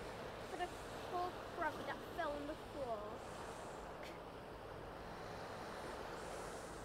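Sea waves on a beach at Immingham on the UK east coast break in a steady, faint, distant wash, with a few brief chirps over the top.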